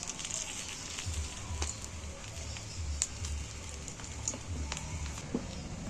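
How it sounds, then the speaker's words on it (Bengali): A stuffed papad sizzles and crackles steadily in a small amount of hot oil in a kadai, with a broad hiss and scattered pops throughout, and no talking. "এবার এই পুরভরা পাঁপড়টাকে আমি আস্তে আস্তে তেলের মধ্যে দিয়ে দিচ্ছি।"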